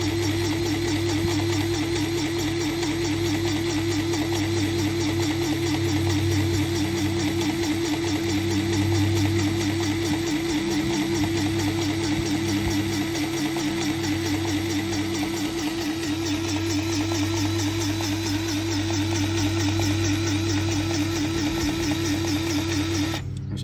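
Automated grease gun pumping grease into a trailer fitting, a continuous loud mechanical whirring and rapid rhythmic pulsing that runs steadily throughout, close up and without pause.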